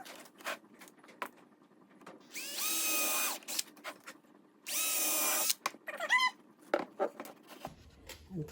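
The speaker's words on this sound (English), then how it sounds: "now go back to pre-drilling" A power drill pre-drills holes in wood for a beehive feeder shim, with two sustained whirring bursts of about a second each amid close workshop clatter and handling noise.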